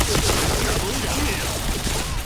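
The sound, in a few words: gunfire in a shooter video game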